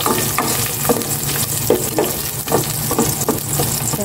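Onions sauté in a pan for chicken adobo with loud, close, continuous sizzling, broken by repeated scrapes and knocks as the spatula stirs them.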